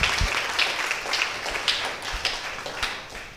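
A gathering applauds with brief, scattered claps and taps in a room, loosely timed and fading in and out over a quiet background murmur.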